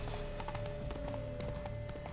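Hooves clip-clop in a steady, even rhythm as a white horse is ridden in The Witcher 3: Wild Hunt, set against constant game ambience.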